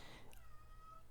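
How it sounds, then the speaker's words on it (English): A house cat gives a single faint, drawn-out meow indoors, heard softly through a microphone over a low steady hum. "Oh, my cat."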